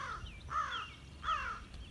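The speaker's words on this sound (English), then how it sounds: "There's a murder of crows that live in those trees over there." Crows cawing from trees, three or four harsh caws spaced evenly over a quiet outdoor background.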